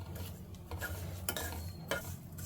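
Dry fruits roasting on low heat in a pan are stirred with a spoon, giving soft scraping strokes and light rustling repeated every half second or so, close and quiet, with no talking.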